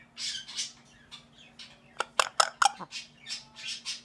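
A pet bird gives a burst of sharp, loud squawks and chirps in quick succession at close range, between softer breathy vocal sounds and a steady low electrical hum.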